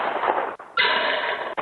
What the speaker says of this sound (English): Residential security cameras catching gunshots when deals went south.